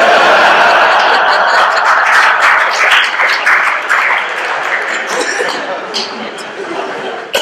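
An audience at a talk cheers and applauds, a loud burst of clapping with chuckles and chatter that gradually thins out toward the end.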